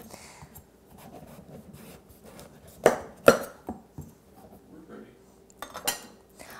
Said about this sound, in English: this time we're gonna cut along the ribs to make them into nice slices